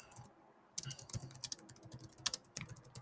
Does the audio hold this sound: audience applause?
no